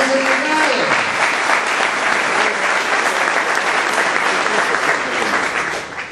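Congregation at a church sermon breaks into sustained, loud applause, a dense wash of clapping that holds steady throughout and eases slightly at the end, with a voice briefly audible early on.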